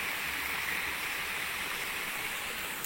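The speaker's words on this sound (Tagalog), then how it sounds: "Tubig yun." Water rushes steadily through a ship canal inside a mountain tunnel, a dense, even hiss of flowing water that holds constant throughout with no voices.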